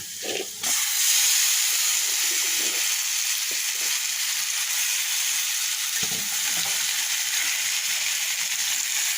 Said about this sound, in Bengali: পেঁয়াজ ভাজা হয়ে গেছে এখন সিদ্ধ করা কুমড়া দিয়ে দিলাম